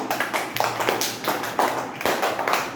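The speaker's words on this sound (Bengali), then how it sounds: "তো তাহলে ওর জন্য সবাই জোরে করে হাততালি দাও তো" A classroom of young schoolchildren applauding a classmate, with quick, uneven bursts of clapping from many hands at close range, loud and lively for a few seconds with no speech.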